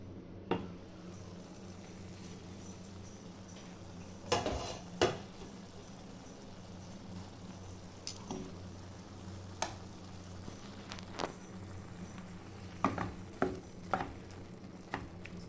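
Ema datshi, a chili and cheese dish with pepper, being stirred in a pot, with a low simmering sizzle throughout and a handful of scattered clinks and scrapes of the spoon against the pot, moderately quiet and with no talking.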